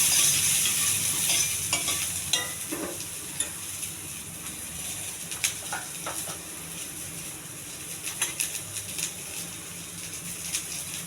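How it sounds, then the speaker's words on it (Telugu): Chana dal, curry leaves and onions frying in oil for a beetroot fry, a loud sizzle at first that eases into a lighter hiss, broken by repeated sharp clinks and scrapes of a spoon stirring, close and with no voices. "శనగపప్పు, కొద్దిగా ఉల్లిపాయలు. ఇవి త్వరగా ఎగించుకోవాలండి"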